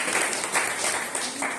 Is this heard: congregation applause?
yes